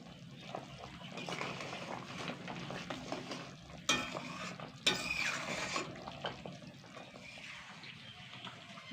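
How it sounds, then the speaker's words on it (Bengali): Cabbage curry gravy bubbles in a pan, making a low, soft simmering hiss, with a couple of brief clatters of a spoon or lid against the pan partway through. "খুব সুন্দর করে এবার ঝোলটা ফুটিয়ে নেব।"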